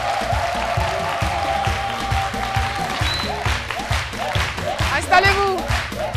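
Studio audience applause greets a guest on RTI 1's midday TV show, a sustained wave of clapping with scattered cheers while a presenter's voice carries over it.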